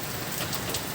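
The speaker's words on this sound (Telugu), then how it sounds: "ఇది ఈరోజు అయితే వర్షం కురుస్తుంది" Heavy rain falls steadily and densely, a loud continuous hiss of drops hitting surfaces close by, with no voices.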